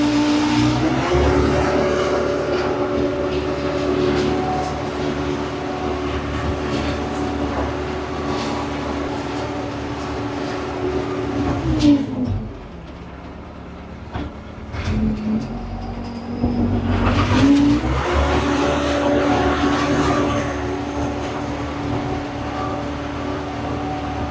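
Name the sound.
tractor engine driving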